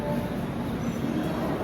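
A Chennai superfast express train pulls out of Daund station, a steady low rumble and rolling rattle of the carriages heard from inside, continuous and fairly loud with no talking.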